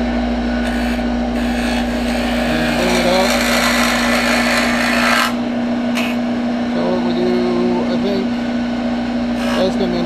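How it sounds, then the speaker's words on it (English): A wood lathe spins steadily while a gouge cuts a bottle stopper turned between centers, giving a constant motor hum with scraping cutting noise and intermittent chatter, and a voice talks over it throughout. "Spindle turning, we always run downhill with the gouge."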